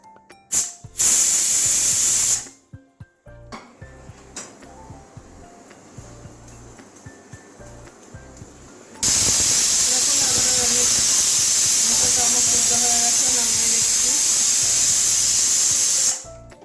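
Pressure cooker venting steam after boiling peas for a curry: two loud, sustained hissing bursts, a short one at the start and a long one of about seven seconds later, with quieter kitchen sounds in between.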